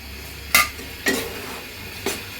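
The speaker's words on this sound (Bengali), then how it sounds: "এখানে আমি এখন ডাল দিয়ে ভালো করে মশলাটা কষিয়ে নেব" Spice paste and lentils being stir-fried in a pot, with a spoon scraping and clinking against the metal in separate strokes about every half second over a faint sizzle.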